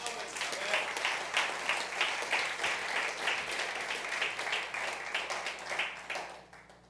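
A church congregation claps steadily in rhythm during a worship service, a dense, fairly loud wash of many hands with a regular pulse that carries on for several seconds before easing off at the end.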